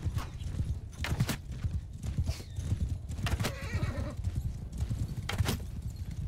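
A horse gallops with rapid, heavy hoofbeats and lets out whinnies amid a Mount and Blade Bannerlord battle, the drumming steady and close over a busy low rumble.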